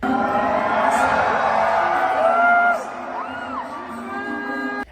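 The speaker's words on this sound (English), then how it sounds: "In the arena, there's applause, sure, but also whistles, booing, shouting" Eurovision arena crowd in a dense, steady roar of shouting, whistles and cheering, with sliding whistle tones rising above the mass, loud and continuous before easing slightly.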